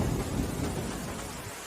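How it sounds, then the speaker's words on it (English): Heavy rain against a window with a low rumble of thunder, a dense continuous wash that fades slightly. "The rain against my window tonight sounds like fingernails scratching to get in."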